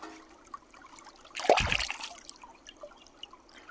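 Freshly opened oysters rinsed in water to clear shell fragments, with a brief splashing gush midway and soft dribbling and trickling around it, quiet and close.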